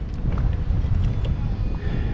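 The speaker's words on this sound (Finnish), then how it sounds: "sen verta tuulee ja tuivertaa tuossa laiturissa, että piti tulla tänne auton suojaan puhumaan" Strong autumn wind gusts across a boat dock, roaring steadily and buffeting the microphone with a loud, continuous low rumble throughout.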